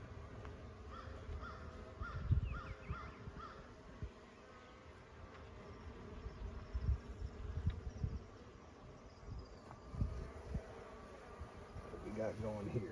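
Honeybees buzzing around an open hive during an inspection, a low continuous drone close by, with crows cawing in the distance and a beekeeper's voice now and then.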